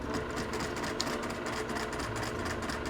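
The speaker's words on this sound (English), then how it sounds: "So start sewing." Sewing machine stitching a curved-pieced quilt block, a steady even motor hum with fine rapid needle rhythm running alone throughout.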